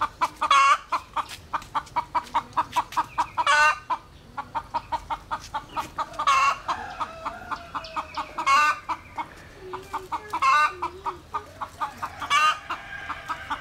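Free-range hens cluck repeatedly at a natural ground nest on a farm where the birds lay and hatch their own eggs, a steady near, rhythmic run of clucks with a few louder calls, and no voices.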